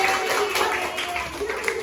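A classroom of students claps for a group presentation, a short, moderately loud patter of hands with voices talking over it.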